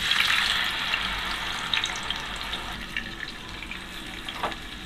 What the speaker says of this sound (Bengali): পেঁয়াজটাকে আমি ভালো করে একটু ভেজে নেব, যাতে পেঁয়াজের কাঁচা গন্ধটা না থাকে